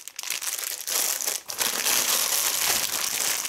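Plastic bag of dried pitted prunes crinkles and crumples close up as it is handled, with a brief pause before steady rustling resumes.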